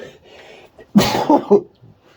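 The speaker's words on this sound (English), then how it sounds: "I'm just sneezing" A single close sneeze bursts out after a quiet breath, followed by a couple of short voiced gasps.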